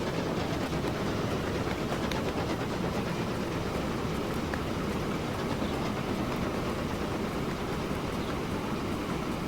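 A train runs over newly built track in the video game Transport Fever 2, a continuous loud rolling rumble with dense rattling clatter of the wagons, steady and close throughout.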